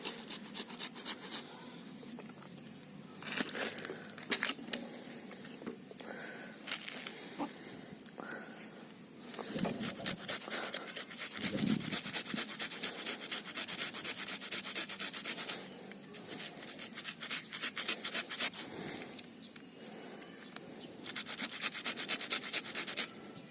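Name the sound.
mashing ingredients fine for plant fertilizer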